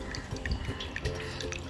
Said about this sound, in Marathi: या फुलपत्रामध्ये मी देवासाठी पाणी घेत आहे